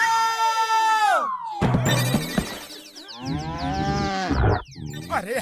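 A buffalo lows loudly and close, with long drawn-out bellowing calls at a farm, mixed with shouting and commotion.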